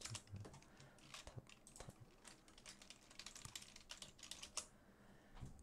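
Typing on a computer keyboard, quick uneven clusters of faint key clicks close by, with no talk over them.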